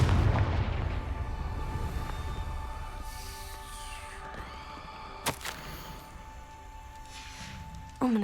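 Confringo fire-spell blasts in the video game Hogwarts Legacy: a heavy booming explosion opens, followed by a rumbling tail with a sustained tone and one sharp crack midway, then another thump at the end, loud and with no talking.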